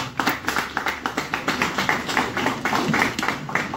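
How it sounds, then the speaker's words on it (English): A crowd of young people at a pep rally in Santa Cruz claps for a few seconds, dense overlapping hand claps with a fairly loud, lively rhythm. "Give yourselves a round of applause."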